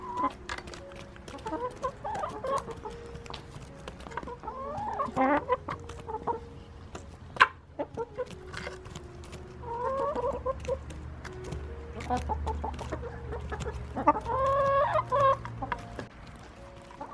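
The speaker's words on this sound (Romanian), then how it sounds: "iar tata le-a oferit un festin găinilor, despicând un dovleac." Backyard hens cluck and chatter in bursts while pecking at a freshly split pumpkin, the calls close and lively over a low, steady outdoor rumble, with no talk.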